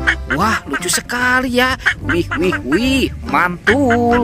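A duck-goose animal figure, uncovered while unpacking toy animals, gives out quacking calls mixed in with excited talk throughout, loud and close.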